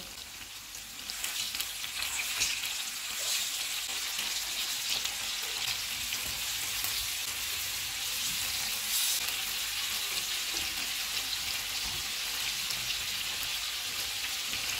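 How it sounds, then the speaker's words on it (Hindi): Marinated mutton chops frying in a pan, a soft steady sizzle with fine crackle, continuous and fairly close, with no voices over it. "इस साइड से भी इनको हम 3 मिनट तक फ्राई करेंगे।"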